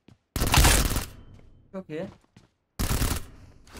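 Gunfire in the mobile battle-royale game PUBG Mobile: two dense, loud bursts of rapid shots, separated by a short stretch where someone speaks briefly.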